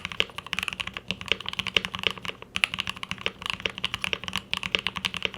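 Brisk typing on a KBD67 Lite, an ABS plastic mechanical keyboard with a PC plate, gives a steady run of close, crisp keystrokes with a deeper thud from the larger keys, played alone without voices.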